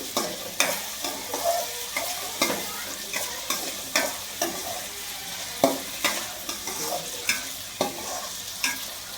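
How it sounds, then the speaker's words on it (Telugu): Garlic cloves frying in hot oil for an egg bhurji curry, stirred with a spoon: a steady sizzle under repeated scraping strokes, close and fairly loud, with no talking. "ఇంకో వెల్లుల్లి 3 మినిట్స్ వరకు ఇట్లా కొంచెం కలుపుతూ ఉండాలండి."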